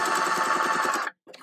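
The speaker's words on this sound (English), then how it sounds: "Then I'm going to backstitch where my pin is." A sewing machine backstitches through pillow fabric: a loud, steady mechanical whir with a fast rhythmic needle pulse runs close by for about a second, cuts out briefly, then starts again.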